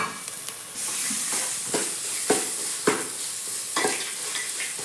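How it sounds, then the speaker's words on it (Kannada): Grated raw mango frying for chitranna, giving a continuous close sizzle broken by several sharp scraping strokes as the mixture is stirred in the pan. "ಎಲ್ಲ ಚೆನ್ನಾಗಿ ಫ್ರೈ ಮಾಡೋಣ"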